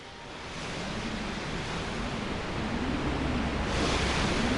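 Rushing water surging as waves part in Super Mario Sunshine, a steady broad roar of surf that swells slightly louder toward the end, heard alone without talk.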